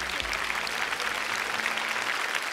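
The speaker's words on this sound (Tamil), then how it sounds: "இன்னொரு முறை பலமா கை தட்டலாம் for a very dear contestant, Ramesh" Steady, dense applause from a large studio audience at a televised singing competition, clapping for a contestant; continuous and even throughout with no voices over it.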